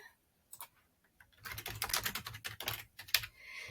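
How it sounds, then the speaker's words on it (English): Computer keyboard keys pressed in quick, soft clicking bursts, a few isolated taps first, then a denser run of rapid typing; quiet and close, with no talking. "If I press Control-Shift-V on my keyboard, it'll paste it in a normal size."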